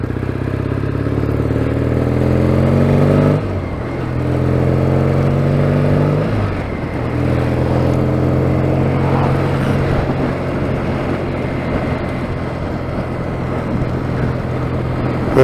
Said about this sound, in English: There's the sound of those exhausts.